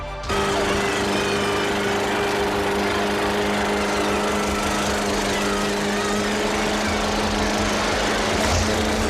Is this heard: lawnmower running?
yes